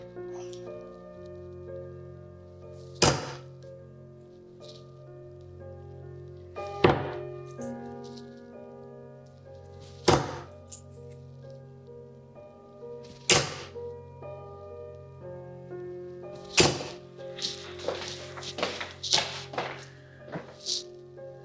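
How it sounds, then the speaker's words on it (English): Six darts thud into a dartboard one at a time over about twenty seconds, spaced a few seconds apart at first and then faster, each a sharp, close impact over a steady low background hum. "It's just throwing 6 darts at the end of the day."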